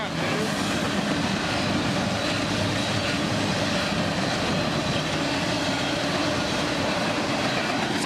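A fast train roars past very close on a hiking trail, a loud, continuous broadband rumble and rattle that holds steady throughout.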